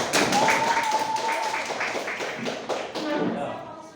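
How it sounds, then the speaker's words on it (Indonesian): A small classroom group claps for the second team during a university teaching-practice exam. Scattered hand claps and taps run unevenly for a few seconds, close by, with voices talking over them. "Tepuk tangan untuk kelompok 2."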